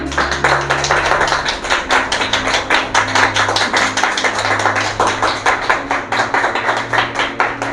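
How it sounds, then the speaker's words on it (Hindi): A congregation at a church sermon claps loudly and rhythmically in unison, a close, even series of sharp claps running without pause and with no voices. "क्या प्रभु के लिए हम जोरदार तालियां बजा सकते हैं?"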